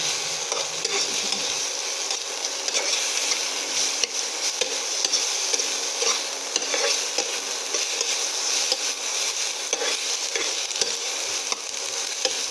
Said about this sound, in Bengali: এটাকে এবারে ভালো করে আবারও নেড়ে চেড়ে ভেজে নেব।